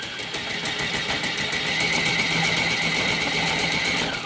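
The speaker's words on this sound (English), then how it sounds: "see, start getting that wheel hop." An Axial SCX10 II RC crawler accelerates with its wheels turned hard right, giving a continuous whirring motor and drivetrain buzz with a rapid chattering rhythm from the wheel hop, close and steady throughout.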